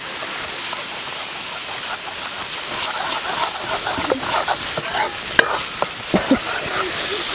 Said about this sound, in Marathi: मसाला बरोबर आपल्याला हे मिक्स करून घ्यायचं. पूर्णचा मसाला सगळं आपल्याला हे शिजवून घ्यायचं आहे.